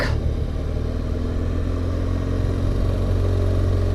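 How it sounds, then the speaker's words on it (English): Motorcycle engine in a lower gear holding the bike back while descending a hill, a steady low throbbing drone after a brief initial rise, close and alone. "I'm going to select a lower gear here, and I'm going to come down this hill using acceleration sense, get my engine to hold me back."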